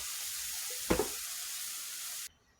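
Spices (turmeric, coriander and chili powder) sizzling in hot oil in a pan for a small fish curry, a steady close hiss with a brief stirring scrape, then cutting off near the end.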